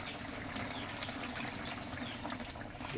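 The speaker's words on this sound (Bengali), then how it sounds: "আমরা হালকা করে জল দিয়ে দেবো" Water is splashed lightly into a cooking pot holding tengra fish and potatoes, a steady wet hiss and trickle running close and even for the whole moment, with no voices.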